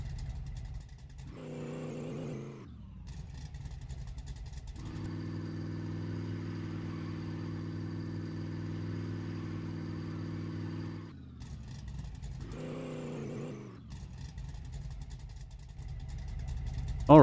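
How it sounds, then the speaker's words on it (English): A street car in the My Garage game revs hard through a burnout, with two bursts of rising engine roar framing a long steady high-rev drone, close and loud. "see what this thing looks like if we do a little burnout with it"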